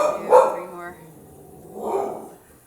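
A dog barks a couple of times during an at-home yoga workout with weights, short bright yelps at moderate distance amid a quiet room, with a voice also present.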